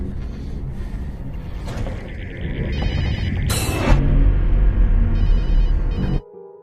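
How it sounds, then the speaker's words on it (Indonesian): Mobile phone ringing in a nearby room, a repeating electronic ringtone over a dense background of rumble and noise that cuts off abruptly near the end; no talk. "ia mendengar suara dering ponsel dari kamar sebelumnya"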